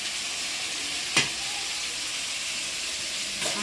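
Drumstick and brinjal pieces stir-fry with onion, garlic and tomato in a pan, a steady close sizzle with two brief louder scrapes of a stirring spoon.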